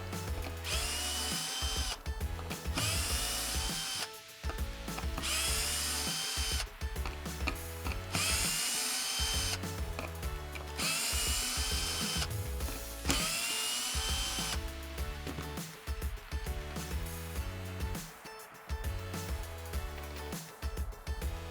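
A power drill or driver runs almost continuously, backing out eight 5/16 screws from the bellows of a VG12 pump during a rebuild. The whirring is loud and close, rising and falling in short bursts with brief pauses between screws, and no talk.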